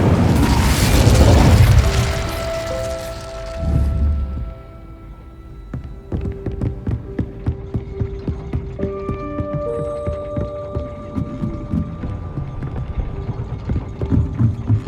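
An Incendio fire spell cast in the video game Hogwarts Legacy erupts as a loud whooshing burst, followed by a second thump, then gives way to a quieter run of rhythmic clicking and tonal game sounds.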